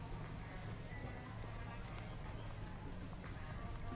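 Show-jumping horse's hooves in a five-star competition arena at the 1.45m level, soft dull thuds buried in steady crowd and arena ambience, with a commentator's voice talking over it throughout.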